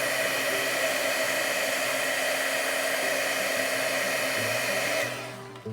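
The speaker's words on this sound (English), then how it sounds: "Heat gun is heated up now," A heated-up embossing heat gun blowing hot air over a card, a steady loud whooshing fan roar that cuts off abruptly near the end.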